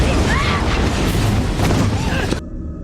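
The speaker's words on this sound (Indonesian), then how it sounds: "ternyata ledakan tersebut terjadi kepada mobil yang Jika dan Timothy naiki" A loud, sustained explosive roar of a car blowing up, with rumbling low end, fills the scene, then cuts off abruptly, in a film.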